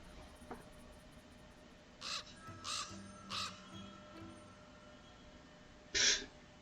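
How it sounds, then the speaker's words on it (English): Four harsh crow caws from the video game Black Mirror 2 ring out in a quick uneven series, then a longer pause before one louder caw, against a quiet steady background hum. "That bird was not interested in being our friend."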